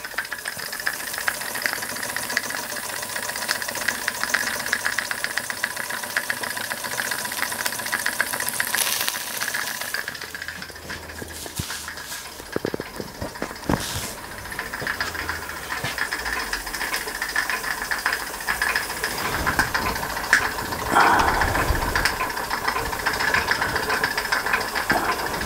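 A scratch-built steam engine runs steadily, with a continuous hiss of steam over a soft, regular mechanical knocking, heard close and fairly even throughout, with no talking.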